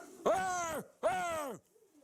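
Pigeons in Mykolaiv give two drawn-out, throaty coos, close and fairly quiet, each lasting about half a second with a short gap between them.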